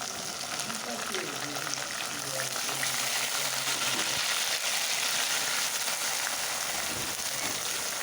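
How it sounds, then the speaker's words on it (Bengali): Green chili and onion paste dropping into a pan of frying onions, sending up a steady broadband sizzle that holds throughout, with faint stirring and a quiet voice underneath. "পেঁয়াজটা ভাজা হয়ে গেছে। আমি কাঁচামরিচ আর পেঁয়াজ বেটে নিয়েছিলাম, আমি ওগুলো দিয়ে দিচ্ছি।"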